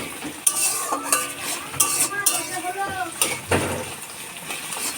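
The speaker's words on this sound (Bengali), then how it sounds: "পেঁয়াজটা ততক্ষণ ধরে ভাজবো যতক্ষণ না এটা পুরো একটা রেডিশ কালারে চলে আসছে।" Onions fry in a pan for chicken kosha, a soft sizzle under repeated scraping and clinking as a utensil stirs against the pan, with a person talking over it.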